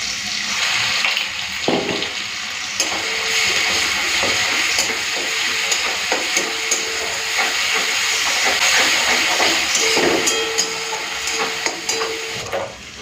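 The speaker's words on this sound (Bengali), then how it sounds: "তেলটা গরম হয়ে গেছে দিয়ে দিচ্ছি গোটা জিরে কয়েকটা তেজপাতা বাটা মশলাটা দিয়ে দিলাম" Whole cumin, a few bay leaves and ground spice paste hit hot oil with a loud, continuous sizzling hiss for the full length, broken by occasional small crackles and spatters, with no voices.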